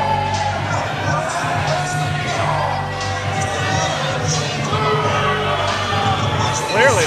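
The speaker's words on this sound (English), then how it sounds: "Clearly, this crowd is booing, and it is shaking." Arena crowd at a basketball game roaring and jeering throughout, a dense wall of many voices with a brief louder swell near the end, loud and close.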